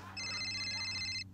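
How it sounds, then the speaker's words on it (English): A phone ringtone for an incoming call chimes in a steady electronic trill for about a second, moderately quiet over a faint background hum, then cuts off. "gotta take this phone call"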